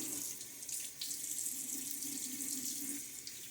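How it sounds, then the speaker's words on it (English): A tap runs steadily into a sink as water is splashed on the face after a wet shave with a Gillette Nacet blade. The flow is close and continuous, with no talk. "Splash of water."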